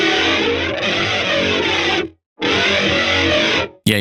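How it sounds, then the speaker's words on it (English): Electric guitar in a heavy, distorted metal tone, sent through a very short 25-millisecond slapback delay, plays loud sustained chords that cut off abruptly twice, with a brief stab at the end. "The first is going to be like a really quick, unnatural slapback delay that is going to take that alien vibe even further."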